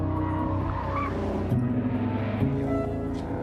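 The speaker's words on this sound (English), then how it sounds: "That's the sound of the quickest production sports car in the world today, the Cobra." A Shelby Cobra sports car runs at speed with a steady, loud engine drone and a rising pitch shift partway through, close and continuous with no talk over it.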